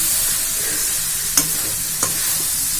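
Tamarind rice being stirred slowly in a pan, a steady soft sizzle with two brief scraping clacks of the spoon, close and continuous.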